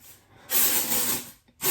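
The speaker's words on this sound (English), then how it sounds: "I sprayed the dry shampoo. I can spray a little more to show you guys." An aerosol can of dry shampoo sprays onto a wig in two hissing bursts, a long steady spray and then a shorter one after a brief gap, close and loud.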